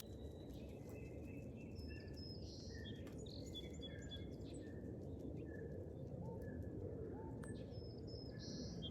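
Crows and cardinals call around backyard bird feeders: scattered faint chirps, tweets and soft coos over a constant broad rushing background, with no talking.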